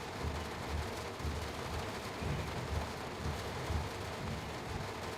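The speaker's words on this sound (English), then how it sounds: "Can't really hear anything now, can you, over the noise of the rain?" Heavy rain in the Train Sim World 6 game on the East Coastway line, a constant broadband roar with faint rumbling thumps underneath, steady and moderately loud with no talking.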